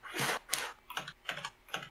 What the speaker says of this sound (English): Just waiting for Desire to finish typing there